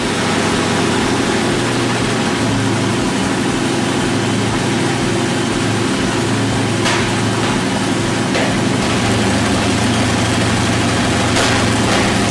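An old Fairbanks Morse two-cylinder, two-stroke engine runs steadily at close range, giving a loud, continuous low rumble with a heavy pulsing beat and no voices.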